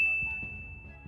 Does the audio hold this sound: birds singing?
no